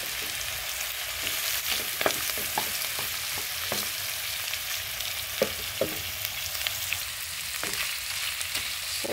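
Onion and ginger sautéing in a home cooking pan for Bicol Express, a steady oily sizzle with scattered sharp crackles and pops and occasional stirring scrapes, loud and close, running unbroken with no voices.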